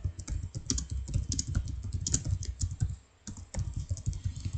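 Fast typing on a computer keyboard, a quick irregular run of close, crisp key clicks that pauses briefly before resuming.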